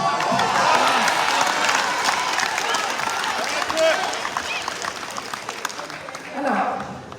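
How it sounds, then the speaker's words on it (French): An audience applauds a singer at a live event, with steady, dense clapping and crowd noise throughout and a brief swell of cheering near the end. "si vous voulez bien l'applaudir"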